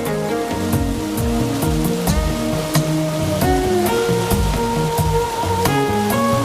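Wooden water wheels (norias) in a Syrian city turn in flowing water, giving a steady loud rush. Drawn-out groaning creaks shift in pitch over it.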